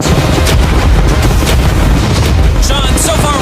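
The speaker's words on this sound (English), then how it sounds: "Fire the cannons!" Cannons fire at a yacht in a dense, loud, continuous barrage of booming blasts and rumbling that barely lets up from start to finish.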